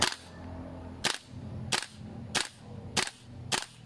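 An empty airsoft gun with its bolt catch disabled fires dry five times in a steady, evenly spaced rhythm. Each shot is a sharp, loud snap with nothing else heard between them.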